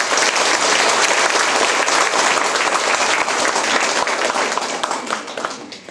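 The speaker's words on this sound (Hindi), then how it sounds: "तो एक बार तुम सब अपने लिए एक बार ताली बजाओ।" Loud, continuous applause from a crowd of students at a motivational talk at an IAS coaching academy, dense clapping holding steady before tapering slightly at the end.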